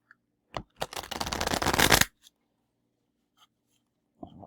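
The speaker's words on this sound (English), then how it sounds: "These are a little harder to shuffle. There are more of them, and they're beautiful and stiff." A deck of large, stiff tarot cards is riffle-shuffled by hand. A single dense, crisp flutter lasts about a second and a half, set off by a few light taps and card knocks.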